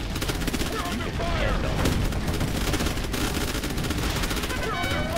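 Dense gunfire fills a battle in the Reborn V 5.0 Commander in Chief video game, rapid overlapping shots and bursts running continuously at steady loudness, with faint voices mixed in beneath.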